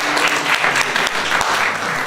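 Applause from an improv comedy audience, with a few cast members joining in, sends a dense burst of clapping through the whole stretch, steady and loud, with a faint voice underneath.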